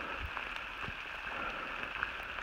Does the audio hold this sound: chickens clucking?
no